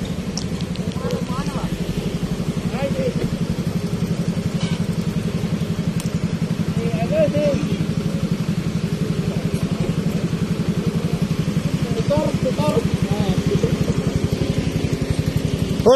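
Motorcycles idle in a parking queue outside a busy pares eatery, a steady low engine drone that holds throughout, with faint voices and occasional clatter in the background.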